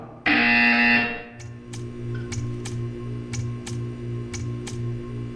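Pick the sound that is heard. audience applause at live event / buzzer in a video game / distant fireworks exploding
buzzer in a video game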